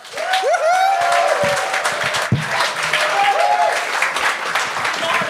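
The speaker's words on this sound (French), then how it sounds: "un tonnerre d'applaudissements pour Alex Forêt!" Loud crowd applause filling the whole stretch, dense and sustained, with whistle-like tones and a voice or two cutting through near the start and middle.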